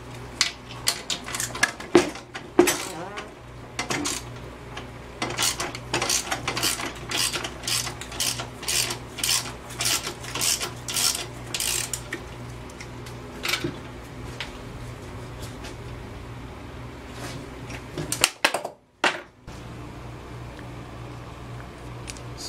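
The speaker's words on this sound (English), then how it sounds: "Let's get that bolt off." Ratcheting and metallic clicking from work to remove a bolt on an Ex-cell VR2500-1 pressure washer, in quick irregular bursts with short pauses, close up, and a brief near-silent gap toward the end.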